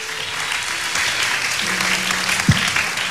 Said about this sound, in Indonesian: Tepuk tangan untuk Ade dan Baying juga